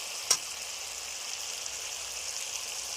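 Ground fennel, cumin and coriander go into hot oil for a vegetarian pointed gourd curry, giving a faint, steady, even sizzle after a single small click at the start.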